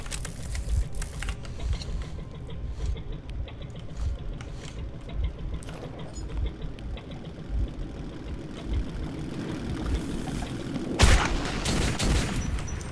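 Gunfire in Metro 2033 gameplay, a scattered run of faint shots and clatter over a steady low background rumble, with one sharper, louder crack near the end.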